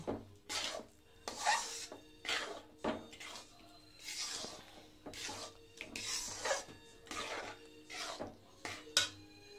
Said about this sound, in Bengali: তারপর এটাকে কাই করে নিই যতক্ষণ পর্যন্ত কাইটা মানে পুরাপুরি না হয়, একদম মাখা মাখা